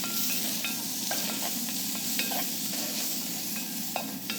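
Red onions sizzle and crackle in hot oil in a pan, cooked quickly over high heat on an outdoor kitchen grill, with steady, dense frying and occasional stirring scrapes, close and continuous without talk.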